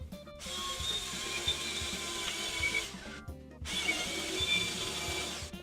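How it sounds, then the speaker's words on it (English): A drill bores through a wooden cornhole board leg, a loud steady whir with a short break midway before drilling resumes. "you're just going to take your drill bit and drill it straight through"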